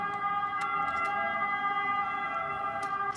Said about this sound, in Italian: scusate per questa sirena che ovviamente è sempre presente qui a Milano